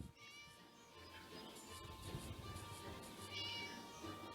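A cat meows a few times in Scary Teacher over a steady hum and background music, fairly faint and synthetic-sounding, like game audio.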